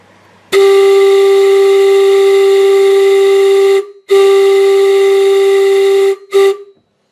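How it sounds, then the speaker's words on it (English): A London Underground train steam whistle gives a loud, close, steady blast of about three seconds, then a second long blast and a short final toot, all with a strong, pure tone. "let's have one more blast of the whistle"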